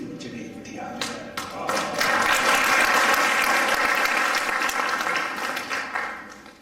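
An audience at a mushaira, a poetry gathering in Delhi, breaks into sustained applause that swells and holds steady, then slowly fades. Scattered voices can be heard in the crowd.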